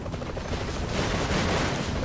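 Rapid gunfire and explosions from the video game Broforce form a dense, continuous wall of noise at steady high loudness, with no talk over it.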